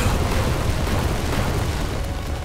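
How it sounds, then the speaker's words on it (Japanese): Ship cannons fire during a naval battle in the Uncharted Waters Origin video game, a dense, sustained roar of booms and explosions that stays loud throughout and is heard alone. "大砲を撃て。"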